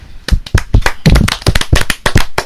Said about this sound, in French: Applaudissez Cathy.